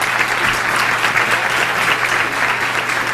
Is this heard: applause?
yes